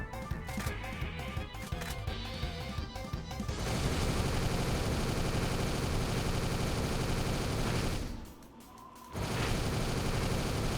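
Rapid explosive gunfire from a high fire-rate weapon in the Borderlands video game, a dense sustained barrage that runs loud and continuous, briefly dropping out near the end before resuming.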